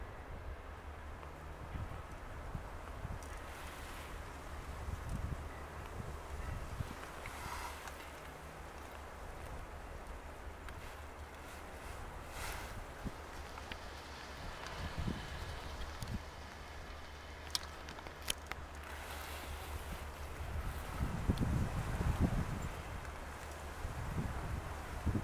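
Steady low wind rumble buffets the microphone throughout, with occasional rustling and gusts swelling louder near the end; no voices.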